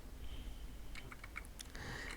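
Short bursts of keystrokes on a computer keyboard, a quick run of close clicks alone over a faint steady background hum, with no talking.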